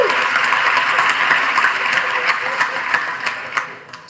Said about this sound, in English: You can clap all you want.